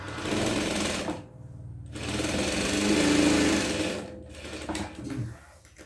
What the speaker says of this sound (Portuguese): e vou costurar, deixando passar aqui a margem branca.